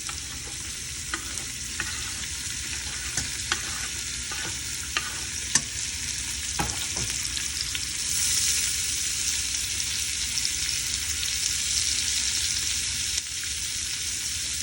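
Onions and garlic sizzle continuously in hot oil in a pot as a spoon stirs and scrapes the pot, producing scattered taps and clinks over the steady hiss.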